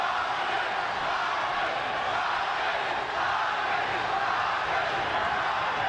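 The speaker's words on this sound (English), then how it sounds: "Crowd chanting Marquez, Marquez, Marquez as his supporters try to get him back into the fight" Boxing arena crowd at the Pacquiao vs. Juan Manuel Marquez fight chanting for Marquez, a continuous loud roar of many voices filling the whole stretch with no pauses.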